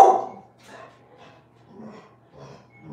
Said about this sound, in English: dog is so sweet, but she sounds so mean and ferocious.